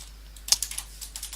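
Computer keyboard keys tapped in a short, uneven burst of light clicks, close and fairly quiet, with one sharper keystroke early on.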